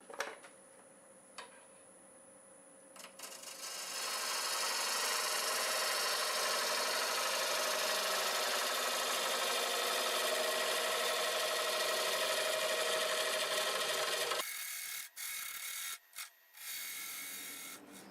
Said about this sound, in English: 1/2 inch bull gouge, and we're still turning around 760 RPM